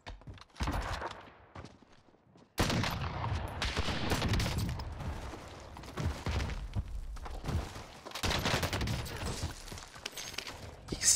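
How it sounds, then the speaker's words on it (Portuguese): Bursts of rapid gunfire in a shooter video game, sharp repeated shots clustering into dense volleys with brief gaps and a short silent stretch early on, at moderate level. "Esses caras tá atirando em mim"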